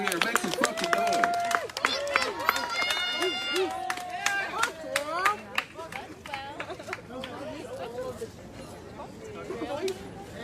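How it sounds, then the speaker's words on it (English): A crowd at a Black Lives Matter protest in Portland claps and cheers, with dense sharp hand claps and shouting voices continuing loudly throughout. "one more round of applause"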